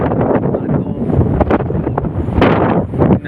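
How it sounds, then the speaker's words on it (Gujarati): Strong wind buffets the microphone at an outdoor location in Surat, producing loud, gusty rumbling bursts with no clear voices. "જો મસ્ત મજાનો પવન આવે, એ રીતનું લોકેશન છે"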